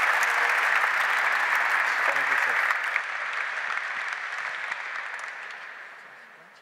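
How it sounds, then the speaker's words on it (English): An audience applauds at the opening of Rotterdam Architecture Month 2019, sustained dense clapping from a large crowd that gradually thins and fades toward the end. "Applause, people."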